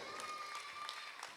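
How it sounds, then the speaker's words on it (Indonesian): An audience applauding at a school prize-giving evening, a faint, dense patter of many hands clapping at once, steady and distant across the whole moment. "Tepuk tangan dulu buat anak kelas sifir"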